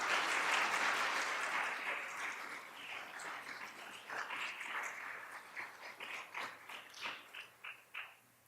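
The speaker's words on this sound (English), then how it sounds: "Let's have one more round of applause for all of our award winners and our honorable mentions." Audience applause for education award winners and honorable mentions at a ceremony, starting as a full, dense wash and gradually thinning into scattered individual claps before fading out.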